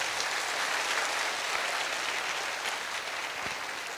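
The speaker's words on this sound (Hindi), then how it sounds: "एक बहुत बड़ा हाथ ताली हो जाए" A large audience at a DXN business gathering claps in a loud, sustained, even round of applause that holds steady for several seconds.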